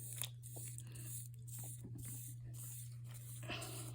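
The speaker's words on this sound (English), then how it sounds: "I'm using the matte finish one, the sealer, to seal this on there." A spray can of Mod Podge matte-finish sealer is sprayed close up in several short, sharp hissing bursts, with brief pauses and small handling noises between them.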